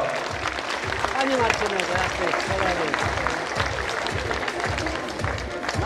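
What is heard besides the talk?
audience applause at sports gala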